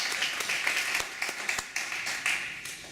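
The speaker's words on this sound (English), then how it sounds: "another round of applause because you've really enriched our night" A round of applause from an audience at an evening induction ceremony, steady dense clapping with a few sharper individual claps standing out, moderately loud and continuous throughout with no talk over it.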